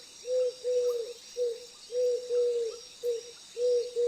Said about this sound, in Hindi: ये तो मौसम के जानकार पंछी है